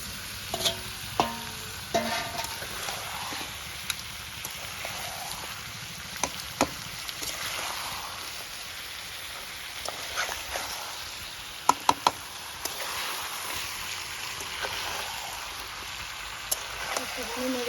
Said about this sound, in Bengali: এবার আমি ভেজে রাখা আলুটা দিয়ে দিলাম, একটুখানি নেড়ে করে মাছের মাথাটা দিয়ে দিলাম।